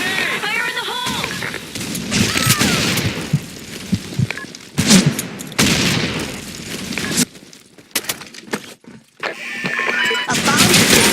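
Gunfire and grenade blasts in a Counter-Strike-style shooter on a sandstorm map, dense bursts of shots and loud booming explosions coming in waves, with a voice calling out over parts of it.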